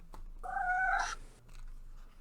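A single house cat gives a clear mid-length meow, fairly close but quiet, against a faint room background with no talking.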